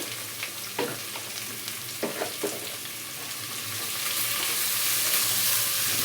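Onions fry with salt in a pan for a spinach and yellow pumpkin masala, a close steady sizzle punctuated by several scraping stirs, the hiss swelling louder toward the end, with no talking.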